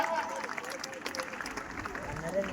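Audience clapping steadily at a Republic Day celebration as a kho-kho team captain is honoured with a cup, a dense wash of applause mixed with crowd voices and talk throughout.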